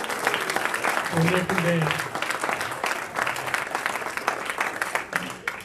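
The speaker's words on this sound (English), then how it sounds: "So please, one big round of applause" Audience applause fills a Rotary club meeting room, steady clapping from a roomful of people that runs throughout while someone talks over it.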